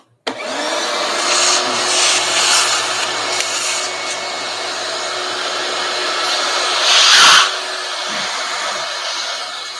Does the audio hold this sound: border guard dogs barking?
no